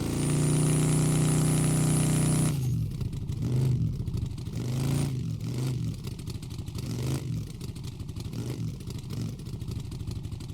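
A video game vehicle revving with brake and throttle held to spin the wheels, a steady engine drone giving way to pulsing, rhythmic revs and clattering mechanical noise at moderate loudness.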